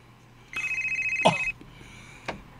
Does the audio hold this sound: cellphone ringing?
yes